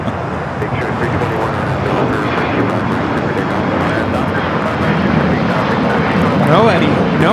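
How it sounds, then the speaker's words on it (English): A United Express Embraer E-175 regional jet departing LAX for Salt Lake City produces a steady, broad engine roar throughout, with people talking over it. "This is United Express 5336 taking off to Salt Lake City, Utah on the E-175."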